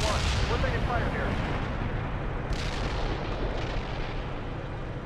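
Gunfire and explosions rumble through a military video game battle, a dense continuous barrage with distant booms and cracks, with faint voices underneath.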